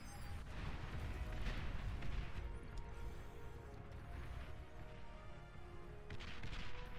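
Light artillery fires in the strategy game Beyond All Reason, a dense, continuous barrage of distant booms and crashing impacts layered over rumbling battle noise, with no voices.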